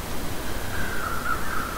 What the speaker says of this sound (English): There's a crow there.